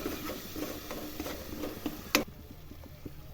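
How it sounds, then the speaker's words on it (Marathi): A cupful of tomato puree frying in oil for a chickpea and potato curry, with soft continuous sizzle and light patter, a few faint stirring clicks and one sharp tap, quiet and without talk. "आता 1 वाटीभर मी टोमॅटोची प्युरी टाकत आहे, ती सुद्धा चांगली व्यवस्थित तेलामध्ये परतून घ्यायची।"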